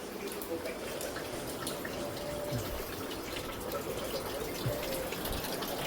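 Steady heavy rain pours down in a dense, continuous wash of water, unbroken for the whole stretch with faint drips and trickles mixed in and no voices.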